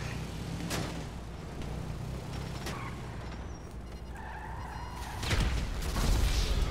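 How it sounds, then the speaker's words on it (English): A car explodes during a GTA Online heist: a sudden, loud, broad rumbling burst near the end, rising over a steady bed of engine and road noise. "Yeah, the car exploded, like, for no reason."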